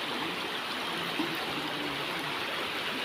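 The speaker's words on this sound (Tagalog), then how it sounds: "Medyo malakas yung agos ng ilog ngayon guys." Constant rushing water from a fast-flowing river, a broad steady roar with no pauses, heard alone and fairly close.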